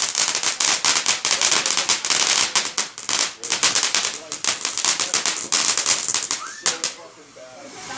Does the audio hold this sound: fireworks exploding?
yes